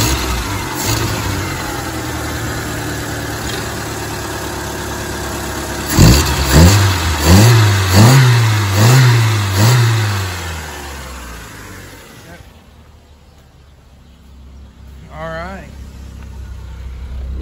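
A 1999 Saturn SC1 with a SOHC engine, recently repaired for a lean fuel-pressure fault, idles and then revs up in a series of rhythmic pulses before settling back down, close and clear, with someone talking over it.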